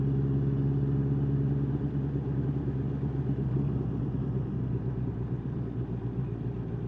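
A mixed group of scooters rides along a road on a Kenyir ride, heard from one of the bikes. Their engines make a loud, continuous low rumble with a steady drone and no breaks.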